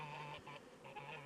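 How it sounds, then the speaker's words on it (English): A goose honks near a beehive inspection, harsh nasal calls in two or three bursts with short gaps between them, fairly close but quiet over a low outdoor background. "So every time I speak, this goose turns up and screams at me."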